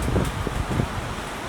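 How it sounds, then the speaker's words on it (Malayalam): Wind gusting outdoors on a cold, rainy day, a steady broadband rush with faint rustling of leaves, close to the microphone and continuous throughout. "മഴയുണ്ട്, തണുപ്പുണ്ട്, നല്ല കാറ്റുമുണ്ട്"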